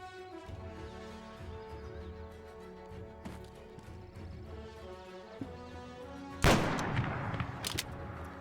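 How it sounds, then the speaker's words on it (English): Trench gun shotgun blasts in a WW2 multiplayer video game, a few sharp scattered shots over background game music and noise, ending with one loud close burst followed by a brief rumbling tail. "Trench gun opening up."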